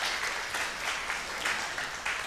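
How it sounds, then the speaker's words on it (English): A crowd claps steadily in sustained applause, a dense patter of many hands at moderate distance. "let's give another applause to the people of Ahafo."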